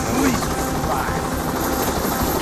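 A helicopter in the video game Payday The Heist drones steadily with a loud, continuous rotor and engine roar filling the mix.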